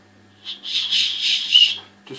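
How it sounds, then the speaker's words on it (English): A small whistle is blown softly for about a second and a half, giving a breathy, airy tone at close range with no talking. "Got the little whistle there, just so"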